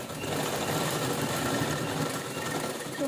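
A sewing machine stitches fabric cut from an old saree for a sandal stand cover, running with a continuous rapid mechanical whir, close and steady with no talk.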